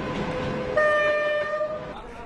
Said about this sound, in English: This green train stops at every small station.